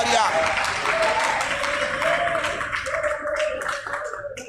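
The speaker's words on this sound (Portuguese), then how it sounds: "Quem pode aplaudir a esse Deus que perdoa pecados?" A church congregation bursts into applause, a dense and fairly loud wash of clapping that holds for several seconds and then thins slightly, with voices rising faintly underneath.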